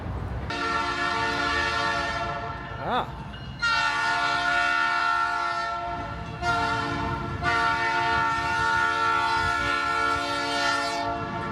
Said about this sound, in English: The train runs through downtown.